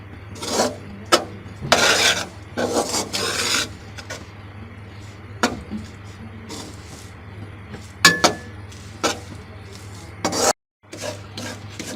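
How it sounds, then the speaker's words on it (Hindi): Gram flour roasting in ghee in a pan, stirred with a spatula: repeated rasping scrapes in irregular bursts, close and fairly loud over a low steady hum, with a brief silent gap near the end. "बेसन को हम भून लेंगे 12 से 15 मिनट तक"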